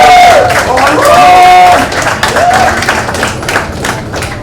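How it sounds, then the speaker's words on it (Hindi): Audience at a web series launch event for Vikram Bhatt applauds, scattered claps and crowd noise under a loud voice, with an announcer talking over it. "आज उसके लिए सब लोग तालियां मार रहे हैं।"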